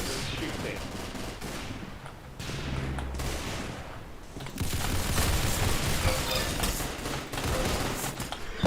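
Dense bursts of rapid gunfire crackle through a shooting video game, continuous and layered with automatic fire, mixed with game noise and faint voices underneath.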